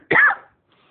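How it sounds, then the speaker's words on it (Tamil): A single short, sharp cough bursts out close by and stops abruptly, followed by near silence. "என்னதுக்கு இருமுறாய்"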